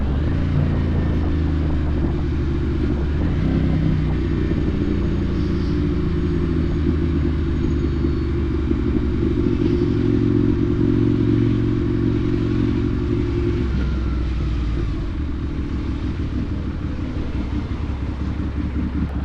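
Ducati Monster 796 motorcycle being ridden, its engine giving a steady low, clattering rumble with wind noise, close and continuous for the whole stretch, with no talk.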